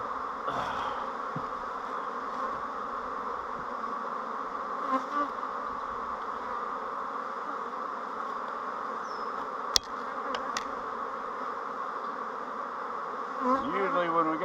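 Agitated honey bees buzz densely and steadily around a hive while pollen traps are fitted, a close continuous drone with occasional individual bees whining past and a brief sharp knock partway through.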